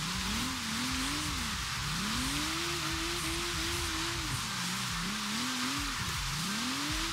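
A car engine drops a gear while drifting through a roundabout in Forza Horizon 3, its pitch rising and falling in repeated revs over a steady hiss of rain-like tire and track noise.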